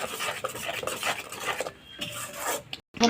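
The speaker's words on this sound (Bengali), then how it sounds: "মশলাটাকে ভালো করে কষে দেবো।" Spice paste with cumin powder is stirred and fried in a pan for a Bengali shol fish curry, giving a steady scraping, sizzling rasp, close and moderately loud, with a short pause near the end.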